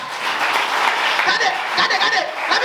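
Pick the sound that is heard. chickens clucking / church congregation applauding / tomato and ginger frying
church congregation applauding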